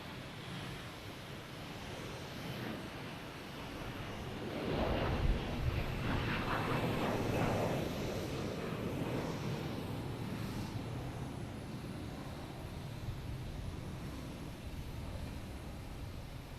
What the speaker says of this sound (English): Now you have a Delta taking off, heading to Orlando, an A321.